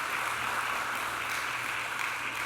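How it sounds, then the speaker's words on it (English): A crowd applauds a county executive at an Orange County announcement of recovery funds, giving a dense, steady wash of clapping that holds evenly for a few seconds without a break. "let's give our county executive a round of applause as well"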